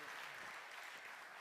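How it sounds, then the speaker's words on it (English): An audience at a fruit industry conference applauds a panel, a steady wash of many hands clapping at the same level throughout, with no talk over it. "So can we give our Apple panel a big round of applause?"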